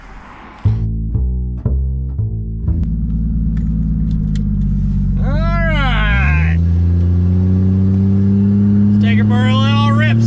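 A Lexus IS300 car starts up and settles into a steady engine hum and low rumble as it pulls away, with a rising rev partway through and people talking over it.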